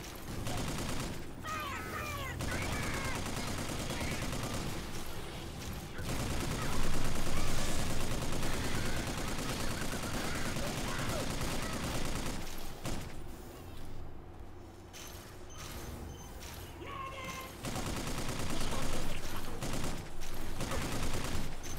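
Dense, continuous video-game gunfire, rapid bursts piling into a loud barrage with brief lulls, and a voice mixed in under the shooting.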